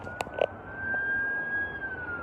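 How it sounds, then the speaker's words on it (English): Distant emergency siren, heard as a thin, steady wailing tone drifting across a street protest, faint beneath outdoor crowd noise with a couple of brief knocks near the start. "I think that's an ambulance right there."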